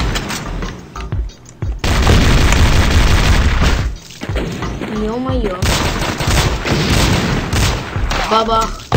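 Loud explosions and bursts of gunfire from a shooting video game boom in quick succession, close and dense, with someone speaking over the noise.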